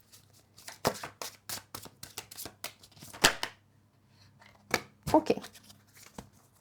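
A deck of tarot cards is shuffled in a quick run of crisp riffles and slaps, close up, with brief quiet gaps and a short spoken word partway through.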